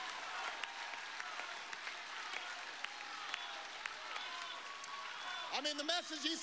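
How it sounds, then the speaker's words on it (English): Steady applause from a large audience at a political speech event, dense continuous clapping throughout, with a faint voice rising near the end. "Is the rest of the clip just them clapping?"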